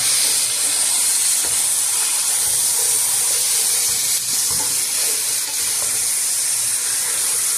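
Chicken and onions roast in a pan for a homestyle curry, a loud continuous sizzle and hiss with faint stirring, steady throughout and no talking.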